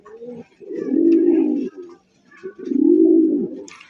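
Pigeons at a breeder's farm coo loudly and close by, giving two long, low, throaty coos separated by a short pause, with faint higher sounds in the background.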